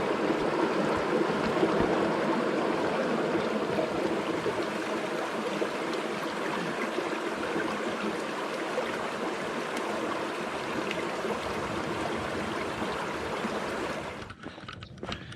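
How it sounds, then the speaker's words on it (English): A stream at a water source on the Appalachian Trail flows with a steady, close, unbroken rush for about fourteen seconds before cutting off abruptly. "I'll let you enjoy a little bit of this water."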